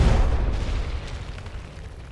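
A loud explosion goes off in a warehouse amid a fire, a deep rumbling boom already at full force that rolls and fades over about two seconds, heard alone as a role-play sound effect.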